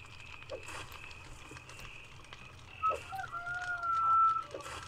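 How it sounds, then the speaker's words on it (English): A rooster crows in a farmyard, one long drawn-out call rising in the second half of the clip over a quiet background with softer clucks. "I can hear your rooster."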